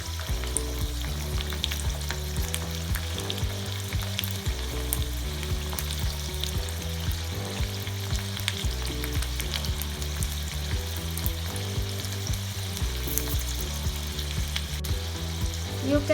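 Garlic frying in oil in a small tadka pan, a steady crackling sizzle with light bubbling, close and even throughout, no voices.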